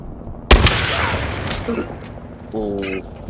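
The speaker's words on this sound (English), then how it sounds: "Brick crazy, fire one shot" A single sharp gunshot in a shooter video game, one loud close crack with a short decaying tail, followed by quieter game sounds and a voice speaking.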